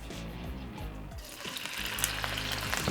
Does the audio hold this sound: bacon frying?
yes